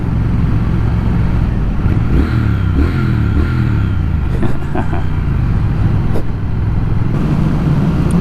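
A 2020 Triumph Speed Twin motorcycle engine drones loudly and steadily while riding, with wind rumble and a low throttle hum throughout.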